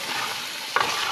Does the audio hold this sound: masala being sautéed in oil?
yes